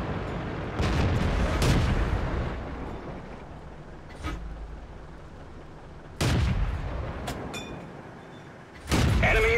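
Crusader tank main gun firing in World of Tanks, several sharp booming shots spaced a few seconds apart, each with a broad crack and decaying rumble over low background noise.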